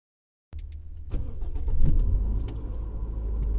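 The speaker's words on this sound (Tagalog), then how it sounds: "So ngayon sir, na-start na natin yung sasakyan." A car engine starts after a moment of silence, then settles into a steady, fairly loud low idle close by, with no voices over it.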